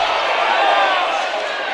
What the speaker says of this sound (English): Now you hear the West Liberty crowd chanting defense.